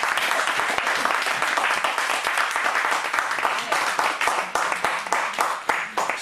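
A church congregation claps loudly and cheers, the applause steady and dense at first, then thinning into more distinct, separate claps toward the end, with voices mixed in.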